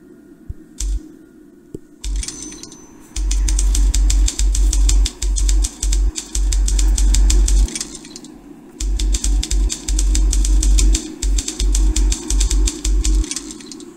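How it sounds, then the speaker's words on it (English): Rapid mechanical typewriter keystrokes in the puzzle game The Room Two, struck in dense clattering bursts with brief pauses between runs, loud and close, preceded by a quiet lead-in. "Ugh, back to the typewriter again."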